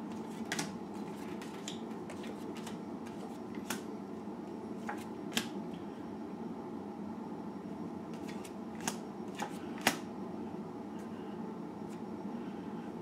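Soft, continuous papery riffling of tarot cards being shuffled for a long stretch, with occasional sharper snaps and taps, close by and fairly quiet.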